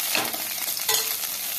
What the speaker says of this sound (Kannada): ಈರುಳ್ಳಿನ ಫ್ರೈ ಮಾಡಿದ ಮೆಣಸಿನ್ಕಾಯಿ ಒಳಗೆ ಹಾಕಿ ಮತ್ತೊಂದು ಸ್ವಲ್ಪ ಫ್ರೈ ಮಾಡಬೇಕ್ರಿ